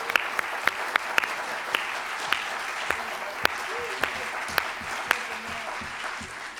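Applause from a seated audience greeting a guest who stands, a continuous patter of many hands with a few sharper individual claps, holding steady and then easing slightly toward the end.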